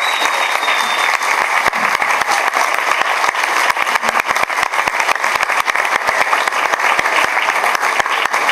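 Graduation ceremony audience giving the class of 2023 graduates a loud, sustained round of applause, dense and steady from start to finish with many hands clapping at once in a large hall.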